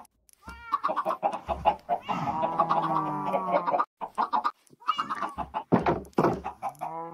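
Minecraft chickens cluck and squawk in a busy flock, several birds overlapping in bursts close by, with brief pauses between calls.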